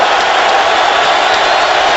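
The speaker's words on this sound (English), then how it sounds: "Crowd here at Ford Field is into it." Dense roar of a big stadium crowd cheering at Ford Field during an NFL football game, Colts at Lions, a steady loud wash of voices with no pauses.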